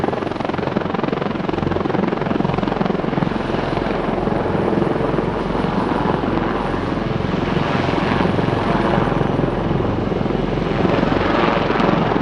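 A Royal Navy Wildcat HMA2 attack helicopter roars through a flying display at an airshow, its loud, continuous rotor and engine noise steady and close throughout.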